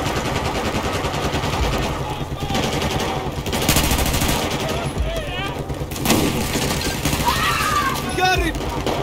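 Machine gun and rifle fire in Battlefield 4 on the Shanghai campaign, loud sustained bursts and rattling volleys with explosions mixed into the game soundtrack and in-game voices.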